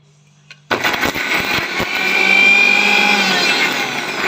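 An electric mixer grinder grinding fruit for juice, still without water, kicks on abruptly after a short quiet pause and runs as a loud, close, continuous whirring that swells slightly as it goes.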